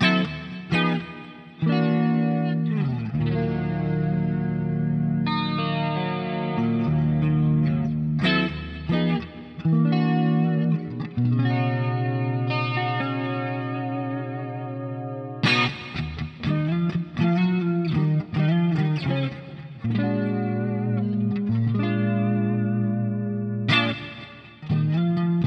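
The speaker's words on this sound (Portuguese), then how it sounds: "Alguns sons limpos fantásticos, né? Incluindo efeitos." Clean electric guitar played through a Kemper amp with effects, ringing chords and arpeggiated notes washed in chorus, echo and reverb, with sustained tones and short pauses between phrases.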